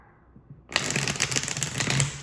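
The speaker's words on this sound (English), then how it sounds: "That was not the best shuffle, hold on." A burst of quick papery riffling and flicking as a deck of tarot cards is shuffled, close and fairly loud, starting after a short quiet moment.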